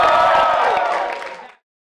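A student debate audience gives a short burst of loud cheering and whooping that cuts off abruptly after about a second and a half.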